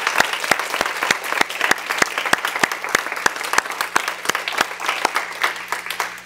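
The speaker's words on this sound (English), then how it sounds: "let's give all 8 presenters a hearty round of applause." An audience at a university three-minute thesis competition claps for the presenters, a lively, fairly loud burst of distinct hand claps that keeps going steadily before gradually thinning out.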